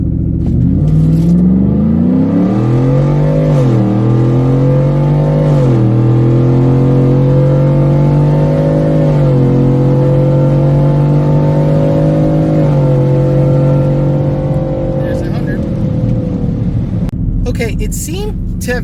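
A Ford F-150 pickup fitted with an aftermarket cold air intake and a drop kit accelerates hard down a drag strip, its engine droning loud and close through rising and shifting pitches. A voice talks over it.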